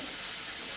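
A small splash of water hits a hot pan, making a continuous bright hiss close by.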